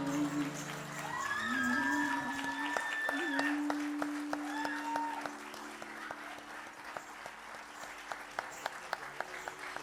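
Audience applause after a Kathak dance performance, dense sustained clapping that swells and then thins to scattered claps, with voices and sustained tones heard over it early on.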